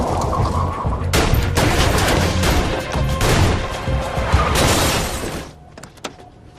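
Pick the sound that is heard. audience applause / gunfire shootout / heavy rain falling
gunfire shootout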